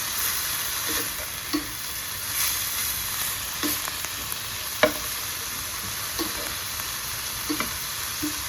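Spring roll filling stir-fries with a tablespoon of soy sauce in a hot pan, a steady hiss of sizzling under soft, intermittent scrapes and taps of stirring, close and without voices.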